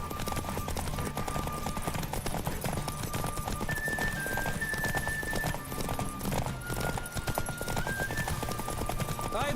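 A horse gallops hard in The Witcher 3 horse race, its quick drumming hooves loud and continuous under game music for the whole stretch.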